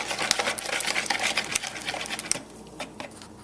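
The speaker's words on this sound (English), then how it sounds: "2 eggs, whisking" Two eggs with vanilla being whisked together for brownie batter, a rapid, busy patter of whisk strokes against the bowl that runs loud and steady before thinning out into lighter, scattered taps.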